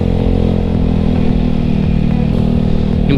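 A Honda BeAT v3 scooter with a remapped, enlarged exhaust revs up close by, its engine droning loud and steady with a busy mechanical clatter and no talking over it.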